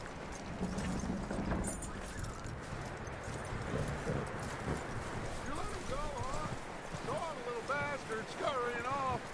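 Horse hooves clip-clop in Red Dead Redemption 2 as the animal moves, the steps continuous under a man's speech and other voices.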